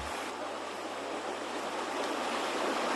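A forest stream runs steadily as a dense, even rush of water, fairly loud and unbroken, with no voices over it.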